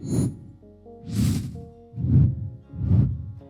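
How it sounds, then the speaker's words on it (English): Fast whoosh sound effects from a motion-graphics effects bundle, three or four quick swishes in a row, one with a bright airy burst, each loud and close with short gaps between. "and we've got fast whooshes."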